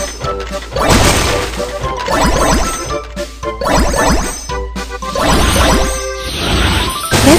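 A cartoon bomb smashes Easter eggs in an animated children's adventure, a loud busy run of crashes, clangs and bright dings, with bursts of shattering and tinkling piling over one another.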